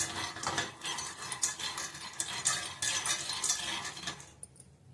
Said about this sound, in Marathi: आणि मीडियम गॅसवरती आपण भाजून घेऊया। गॅसवरती असे भाजून घ्यायचे।